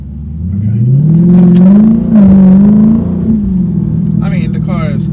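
A car engine revs up close with a fraction-of-a-second throttle delay, its pitch rising and holding for a couple of seconds before dropping back, with someone talking briefly afterward.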